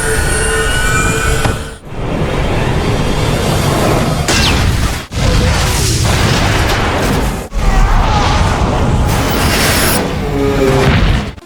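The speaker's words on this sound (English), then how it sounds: "The earth-shaking explosion destroyed the entire train." In a fantasy story about a demon hunter fighting vampires, an earth-shaking explosion destroys an entire train, heard as loud, continuous roaring blast noise broken by a few brief dropouts.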